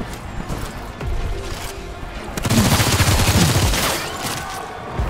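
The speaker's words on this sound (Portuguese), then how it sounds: "Ativar o inatingível e meter tiro nesse cara aqui." Rapid bursts of gunfire from the video game Showgunners, dense overlapping shots with booming impacts that swell to a loud, sustained volley midway and then taper off.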